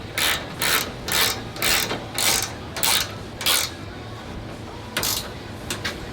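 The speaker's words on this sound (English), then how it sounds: "now we're moving on to tightening down the bolts" Bolts being tightened on an Ineos Grenadier Quartermaster bed cage, a ratchet giving about eight short bursts of clicking in steady rhythm, then a brief pause and a few more bursts, close and with no talking.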